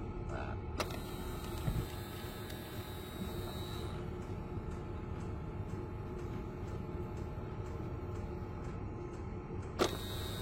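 Steady mechanical whirring of small heater flap servo motors inside a car dashboard climate control, a continuous hum with a few brief clicks, heard up close.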